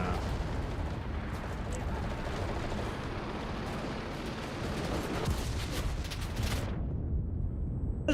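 Grenade blasts and gunfire in the video game Mixers: Legends of Terrestria form a dense, loud, continuous rumble of explosions and shots that cuts off abruptly near the end.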